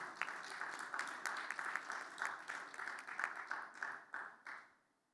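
A conference audience at a plenary session on private-sector engagement in family planning applauds steadily for about four and a half seconds, a dense close wash of clapping that then fades quickly to quiet.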